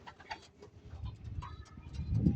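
Low, throaty cooing from pigeons, a few soft calls rising near the end amid faint rustling and background noise.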